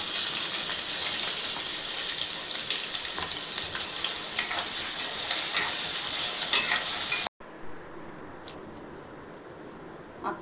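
Potatoes fry in hot oil in a kadhai with a dense, steady sizzle and crackle. The sizzle cuts off abruptly near the end and gives way to a quieter, fainter hiss with a few pops.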